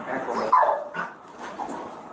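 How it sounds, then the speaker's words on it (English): Police drug-sniffing dog barking and yipping in short bursts at a school search, close and fairly loud, with people talking over it. "Here comes the dog."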